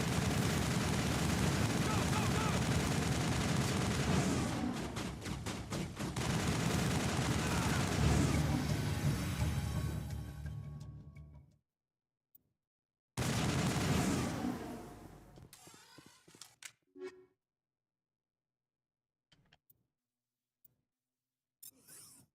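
A firefight erupts in Mass Effect: loud overlapping volleys of gunfire roll on for about ten seconds, fade out, then a second burst follows. Scattered faint clicks and quiet gaps trail after, with voices heard in the clip.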